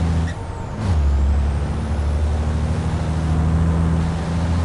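Water sprays onto a racing truck's brakes in a European truck championship game at Le Mans, a steady broad hiss layered over the loud, droning hum of the truck engine, continuous throughout.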